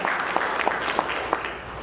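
A meeting audience at an annual gathering at Bella Collina claps in a brief burst of dense, steady applause, fairly close and loud, fading slightly toward the end.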